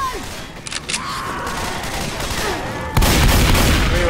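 Gunfire in the Left 4 Dead video game: a couple of light early pops, then a loud burst of shots that continues over a busy background of game noise.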